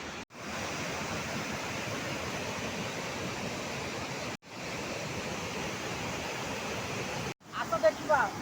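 Putudi waterfall, a natural falls, gives a steady, dense rush of water close by, broken by two brief cuts, with a few fainter sounds near the end.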